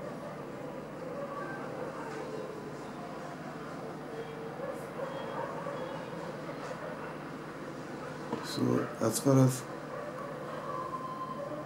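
A moving train rumbles steadily at a distance from a station platform, low and continuous, with a brief cluster of louder clanks near the end and someone speaking briefly.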